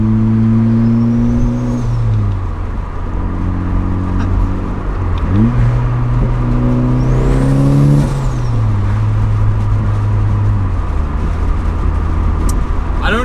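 Close, loud engine and exhaust droning as a turbocharged NB Mazda Miata accelerates, pitch climbing, dropping at shifts, then climbing again in steady waves.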